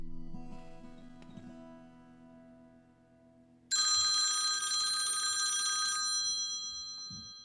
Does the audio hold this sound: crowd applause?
no